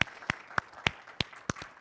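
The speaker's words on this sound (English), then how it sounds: "Please give them a round of applause." Sparse hand claps sound out at a smart-city and construction technology panel event, roughly seven separate claps in an even rhythm, faint and spaced, with a quiet hall behind them.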